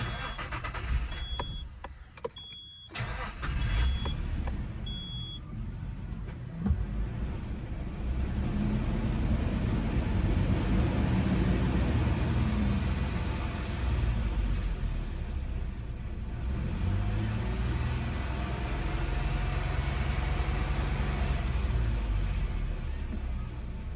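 A car with a Nissan VG33 engine cranks over with a few short starter clicks and catches, then settles into a steady loud idle with gentle revs toward 2,000 RPM that run continuously.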